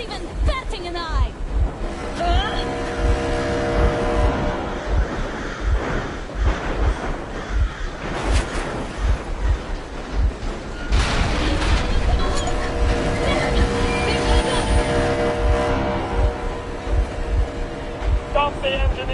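Boat engine in Metro Exodus chugging steadily throughout, a low continuous drone with harmonic hum beneath, while voices talk and shout over it.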